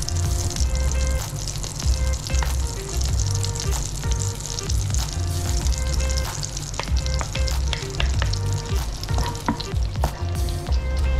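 Garlic sautéing in butter in a pan for sisig, a steady loud sizzle and crackle running throughout with occasional stirring scrapes.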